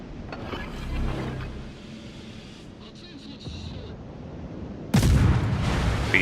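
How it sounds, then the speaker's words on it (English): Naval guns of the cruiser Fiji firing in World of Warships: low rumbling ambience with muffled thuds, then a sudden loud broadband blast near the end that keeps roaring on. "Fiji firing guns."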